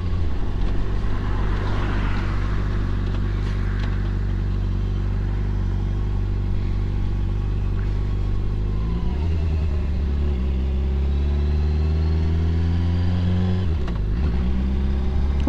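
Cars, including sports cars, passing on Saddle Road across the Big Island of Hawaii, a steady engine drone with a louder, revving vehicle sweeping by partway through.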